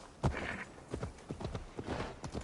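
Quiet, steady clip-clop of horse hooves trotting in a Viking-era action video game, with faint game background sounds.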